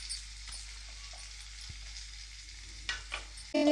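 Paneer, onion and capsicum fry on a low flame with a steady, soft sizzle that holds throughout, with a few faint clicks and light stirring taps near the end.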